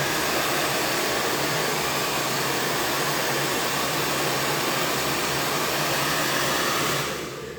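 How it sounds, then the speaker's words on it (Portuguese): A hair dryer blows steadily and loudly at close range, a constant broadband rush of air that holds for several seconds before cutting off near the end. "Eu bati com a ponta do secador aqui"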